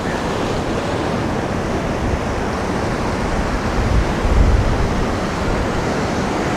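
Ocean waves crash in a continuous loud roar of surf, swelling slightly midway, with no voices.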